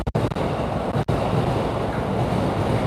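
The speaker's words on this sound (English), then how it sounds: "is the audio cutting out or is it the wind? It's definitely the wind. Strong wind today," Strong wind buffets a cheap microphone outdoors in Shibuya, producing a constant heavy, low roaring rumble broken by a few brief dropouts near the start. No one speaks.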